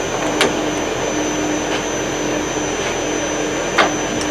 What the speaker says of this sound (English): Reverse the feed on the lathe.